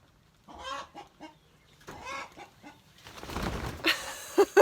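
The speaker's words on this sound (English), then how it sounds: "Go away, chicken." A chicken near a goat milking stand clucks in short repeated bursts, close to the microphone, followed by a few sharper squawks and a stretch of rustling.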